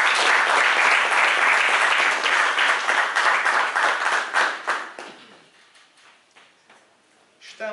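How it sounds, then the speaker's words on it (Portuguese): Applause from an audience at the opening session of a political party convention, loud and dense broadband clapping for about five seconds before it thins into a few scattered claps and quiet room noise. "pedia uma salva de palmas."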